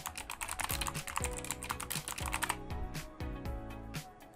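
Quick bursts of keystrokes on a computer keyboard, close and clear, a rapid pattern of clicks broken by short pauses, with no speech.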